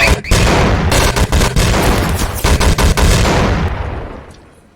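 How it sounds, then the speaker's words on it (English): Turrets in Garry's Mod fire a rapid, dense burst of loud gunshots that hammer without pause for several seconds, then the noise tails off and fades toward the end. "And if you got turrets, well..."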